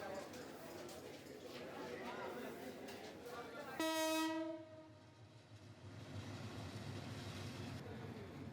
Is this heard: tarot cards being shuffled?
no